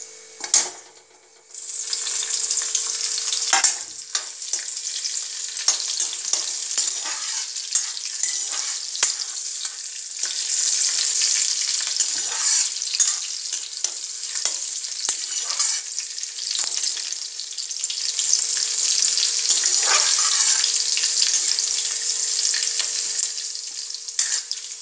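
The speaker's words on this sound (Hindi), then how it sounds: "अब हम इसमें हरी मिर्ची डाल देंगे।" Green chillies and cumin frying in a pan for potato khichdi, a close, steady sizzle with stirring scrapes running continuously and no voices.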